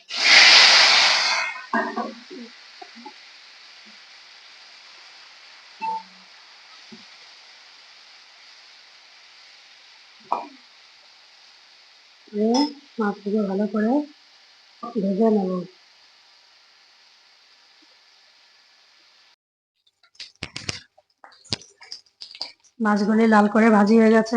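Small hilsa fish rubbed with salt and turmeric hit hot oil with a loud burst, then settle into a steady hissing sizzle that runs under intermittent speech before fading out.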